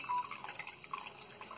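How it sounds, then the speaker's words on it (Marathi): Water is poured into a brass vessel that has a hole in its bottom, making a quiet, close trickle and splash that lasts only a moment. "आता हे त्याच्यामध्ये पाणी टाकतात"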